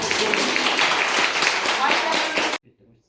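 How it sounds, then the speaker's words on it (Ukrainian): A tour group applauds inside a philharmonic hall, with brisk, continuous clapping from many hands for over two seconds that cuts off sharply, followed by faint voices in the quiet. "Можна аплодувати"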